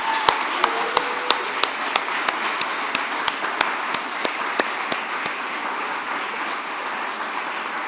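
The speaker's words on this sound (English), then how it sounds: "I just want to give one more round of applause for Allison" An audience at a climate assessment rollout event gives another round of applause, a steady roar of many hands with strong, evenly spaced sharp claps standing out and a faint tone briefly underneath.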